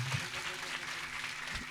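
An audience at a devotional stage program claps steadily and loudly, a dense wash of applause that continues throughout with a faint murmur underneath.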